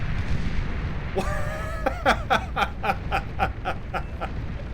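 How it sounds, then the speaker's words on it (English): Advanced solar panels blow up one after another in a chain reaction in the strategy game Beyond All Reason, a rapid series of about a dozen sharp explosive bursts over a low battle rumble. "a single explosion chain reacted into both of those ecos and blew up every single of those very expensive advanced solar panels here"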